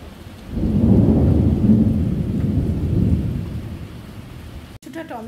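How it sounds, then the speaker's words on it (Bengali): Heavy monsoon rain pours outside during a thunderstorm, with a deep rolling rumble of thunder swelling and fading over a few seconds, then a brief cut to quieter indoor sound. "বাইরে কিন্তু প্রচণ্ড ঝড় বৃষ্টি হচ্ছে, শুনতে পাচ্ছেন নিশ্চয়ই, ভীষণ লাইটনিং হচ্ছে প্লাস থান্ডারিং হচ্ছে"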